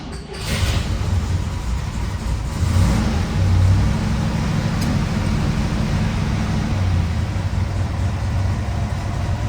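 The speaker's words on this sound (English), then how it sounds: "So I'm going to push in the clutch and give a couple hits to the accelerator, and here we go." Cold start of a 1970 Chevrolet Chevelle LS6 tribute engine, which catches after a brief crank and settles into a loud, rough, steady idle, heard close with no talking.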